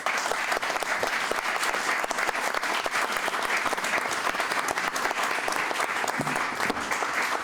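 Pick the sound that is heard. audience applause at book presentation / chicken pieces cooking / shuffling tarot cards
audience applause at book presentation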